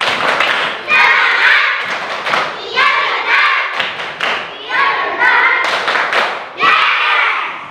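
Schoolchildren at SDN Plalangan 01 in Kalisat, Jember, clap in a rhythmic spirit chant, sharp grouped bursts of hand claps repeating about once a second, close and loud, mixed with the children's chanting voices.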